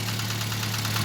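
A car engine idles at a steady, close, even hum with a low droning tone and no talk; the engine has developed extraneous noises, with a loose, wobbling alternator and a suspected failing timing-belt tensioner pulley.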